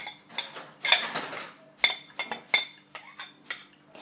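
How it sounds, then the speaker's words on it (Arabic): A cocotte pot handled for cooking an onion-based Moroccan roast chicken dish, giving a run of sharp metallic clinks and knocks, close and irregular, about a dozen separate hits over a few seconds with no talking. "غادي ناخذ الكوكوط، غادي ندير فيها البصله"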